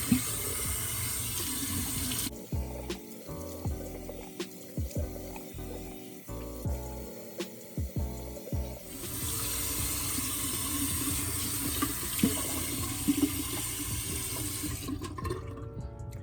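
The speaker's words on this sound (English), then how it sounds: "Now that I feel like it's completely clean, I am going to rinse my face." Tap water runs into a bathroom sink while a face is rinsed, a steady rushing stream broken by splashing and hand scoops in the middle, then full flow again before cutting off at the end.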